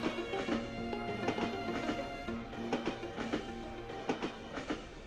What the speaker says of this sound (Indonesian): Sesaat lagi kereta Anda akan tiba di stasiun akhir Tanah Abang.